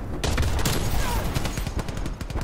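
Rapid Type 63 rifle fire in Black Ops Cold War rattles in dense, fast bursts of sharp shots, loud and close, continuing for several seconds with a little speech underneath.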